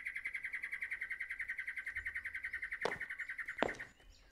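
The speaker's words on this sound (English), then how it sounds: "That bird's going nuts." A bird chirps loudly and rapidly in an indie horror game, a steady run of bright, evenly pulsed tweets that carries on for several seconds, broken near the end by two sharp knocks before it fades.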